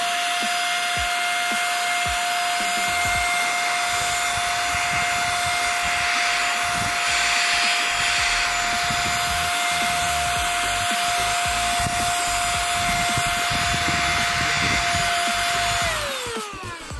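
A cheap mini handheld car vacuum cleaner with a brush attachment runs steadily near the microphone for about sixteen seconds with a constant whine, then spins down at the end; no one speaks.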